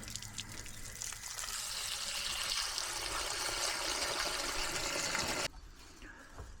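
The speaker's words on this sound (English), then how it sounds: "Now this will splash" Diluted bleach water drains from an RV's fresh water tank beneath the camper, pouring and splashing in a steady broad rush before cutting off abruptly near the end, leaving quieter trickling.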